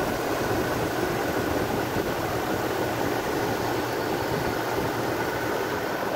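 A 2000 Toyota 4Runner with a 3.4 liter engine and automatic transmission, 248,840 miles on it, idles steadily with a low, even rumble and broadband hum that holds level from start to finish, alone with no voices.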